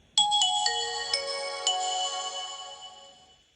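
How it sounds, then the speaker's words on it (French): Nokia 5220 mobile phone powering up without a SIM card: a short bright chime of several stacked ringing tones struck in quick succession, then a clean sustained ring fading away over about three seconds, close and alone. "Petit son de démarrage que tout le monde a bien connu, spécifique à Nokia."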